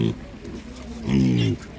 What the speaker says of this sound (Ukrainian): Дуже приємно дивитися, коли люди пропонують отаких свиней на ринку, таких чистеньких, гарних.